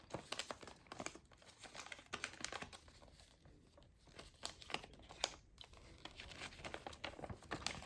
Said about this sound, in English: it's still gift wrapped, so I'm just going to unwrap it